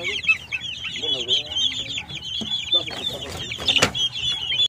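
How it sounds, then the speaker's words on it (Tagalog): Native chickens in a farm pen cluck loudly and busily nearby in a continuous chatter, with short squawks and rustling mixed in. "Ayan, native chicken mga kapatid."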